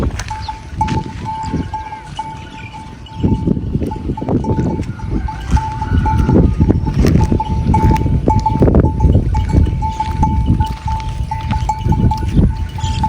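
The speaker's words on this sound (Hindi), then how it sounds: "ये सहरा के अंदर माशाल्लाह से ये सामने देखें, भेड़ें अपना चारा खाने में मसरूफ़ आपको दिखाई दे रही हैं।" A flock of sheep, marked with henna, grazing out in the desert, with steady rustling and chewing, scattered soft bleats and a faint cowbell-like clinking, growing busier partway through.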